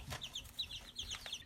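Backyard chickens clucking nearby, a quick run of short, high, chirpy clucks and murmurs in an uneven rhythm, fairly faint, with no talking.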